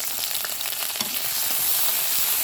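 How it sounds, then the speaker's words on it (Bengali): Garlic fries in mustard oil in a wok, giving a close, steady sizzle with a few stirring scrapes, loud and without any voices. "এখন আমি সরিষার তেলের মধ্যে রসুনগুলো দিয়ে দেব"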